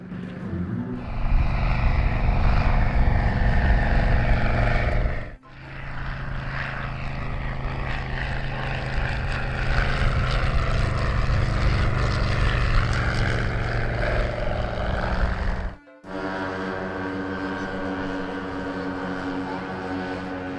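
A WWI replica biplane with a wingspan over 44 feet, built with ribs, fabric and cables, drones loudly and steadily with its propeller engine while flying slowly, with two brief cuts in the sound.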